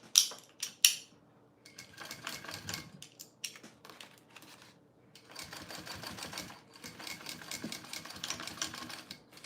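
A sewing machine top-stitches a small bowler bag in short mechanical bursts of rapid clattering, stopping and starting several times, close and fairly quiet.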